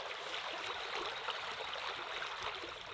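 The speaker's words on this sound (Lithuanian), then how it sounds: "O čia yra upė" Soft, steady rush of flowing water, a gentle stream heard at a distance with no voices.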